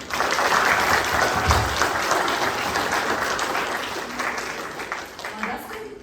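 Sustained audience applause for students at a school event, dense steady clapping filling the room throughout, with some voices mixed in.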